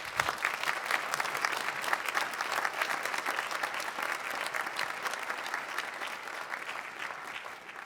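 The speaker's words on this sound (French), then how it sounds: "Merci de leur faire un tonnerre d'applaudissements." Thunderous applause from a concert audience at a New Year concert in Horbourg-Wihr, a continuous crowd of clapping that holds steady at moderate loudness and tapers slightly near the end.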